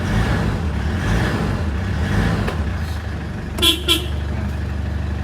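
A Ford Everest's car horn, rewired to a relocated horn button after a clock spring repair, gives two short honks close by over a steady idling engine.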